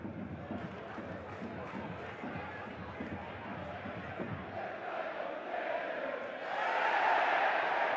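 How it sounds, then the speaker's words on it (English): Football stadium crowd at a 3rd Division match between 1860 München and Dynamo Dresden, a steady roar that swells louder near the end, with a commentator talking over it throughout. "Well, the crowd not happy."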